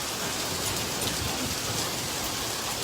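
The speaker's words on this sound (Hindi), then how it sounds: "इस वक्त शदीद ज़ालाबारी जो है वो इस्लामाबाद में हो रही है" Heavy sleet and rain pour down in Islamabad, a dense, steady hiss of falling ice and water that holds at an even level throughout, with no voices.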